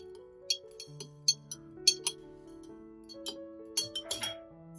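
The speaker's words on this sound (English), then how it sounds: "Then pour in water and stir well." A spoon stirring water and sugar clinks against the inside of a glass jar several times in an uneven rhythm, bright and close, with faint sustained tones behind.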